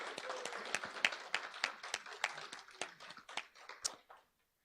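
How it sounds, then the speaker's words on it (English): An audience at a Board of Education committee meeting claps for the directors: a run of distinct, fairly sparse hand claps that carry on steadily, then stop abruptly just before the end. "could we just take a moment to give all of our directors a round of applause?"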